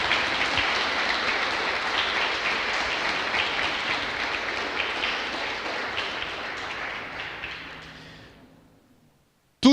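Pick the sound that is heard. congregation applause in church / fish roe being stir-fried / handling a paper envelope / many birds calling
congregation applause in church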